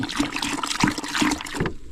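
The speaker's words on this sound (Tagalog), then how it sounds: "Tsaka lalagyan ng tubig." Water being poured into a cooking pot for boiling crabs, a steady splashing pour with gurgling pulses that stops abruptly near the end.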